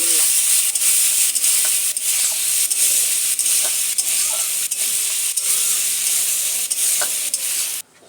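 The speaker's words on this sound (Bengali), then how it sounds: "দেখো বন্ধুরা, লাল লাল করে ভেজে নিলাম।" Prawns fry in a pan with turmeric, salt and chili powder, giving a loud, steady sizzle and hiss broken by regular scraping strokes of a stirring spoon, with no talking.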